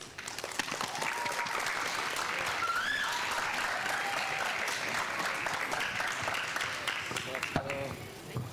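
A graduation audience claps in a sustained, even round of applause that fills the hall for several seconds, with some voices faintly under the clapping.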